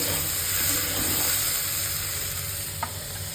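Large peeled prawns sauté in a hot pan for a Bengali prawn curry, giving a steady, close frying sizzle throughout with one small click near the end and no voices.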